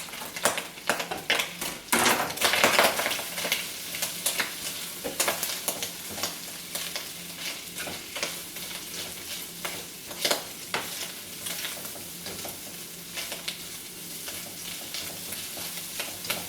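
Slivers of Hungarian salami and bacon frying together in a pan, a dense, continuous crackling sizzle with busy spatters and occasional stirring scrapes, close and steady throughout with no voices.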